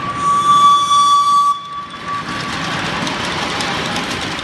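Locomotives at an indoor railway exhibition: a loud, steady train horn tone with overtones sounds for about a second and a half, then cuts off, leaving broad hall noise and rumble.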